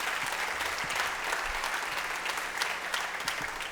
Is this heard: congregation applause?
yes